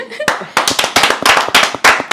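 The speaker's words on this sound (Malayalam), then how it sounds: "അപ്പൊ കൈടി കൈയടി" A small group claws out a burst of hand clapping, loud and close, with sharp uneven claps bunching into quick clusters over about two seconds.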